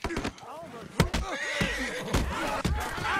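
A horse in the video game Red Dead Redemption 2 neighs with a loud, wavering whinny, close by, with hoof clops and someone talking over it.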